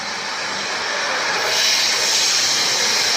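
Eggplant and potato pieces dropped into hot oil already frying with homemade chili powder, a loud continuous sizzling hiss that swells and brightens partway through and keeps going steadily.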